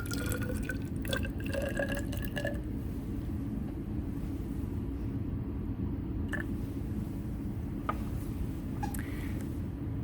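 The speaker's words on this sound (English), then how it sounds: "This time I'm going to put 50 milliliters of water in to start." Water runs into a 100 milliliter graduated cylinder, with a few bright trickling, splashing bursts early on and a handful of drip-like plinks later, all over a steady low background rumble.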